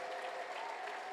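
A church congregation at an Ethiopian Protestant prophetic service claps together in praise of the Lord, giving a dense, steady roar of many hands, fairly distant and continuous, with no clear voice on top.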